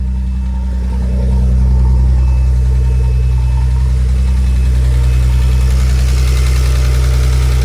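A turbocharged BMW S52 engine in an E46 idling close by on first start, steady low rumble with a faint ticking undertone from injectors or lifters, rising slightly in level early on and then holding even.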